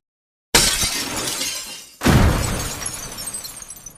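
A glass window shatters in two loud crashes, the first after a moment of silence and the second a second and a half later, each followed by tinkling debris settling.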